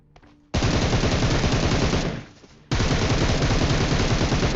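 Two long bursts of rapid automatic gunfire in a shooter video game, loud and close, separated by a short pause, with no speech over them.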